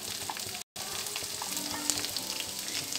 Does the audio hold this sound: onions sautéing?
yes